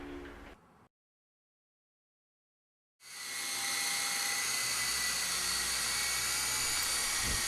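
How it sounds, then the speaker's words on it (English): A Twister Hawk RC helicopter's main rotors spin up after a short silence, an electric motor whine rising quickly to a steady high buzzing hum with rotor drone beneath, close and alone. "Very gently ease the throttle stick forward until the main rotors start to rotate."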